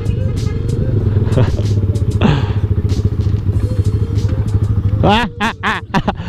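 A Rusi Classic 250 motorcycle is ridden on the Marawi route near Pililla. Its engine drones steadily up close while riders talk over it, and wind buffets and clattering knocks come near the end.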